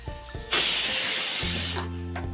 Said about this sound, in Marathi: मी थोडंसं पाणी जास्त घालते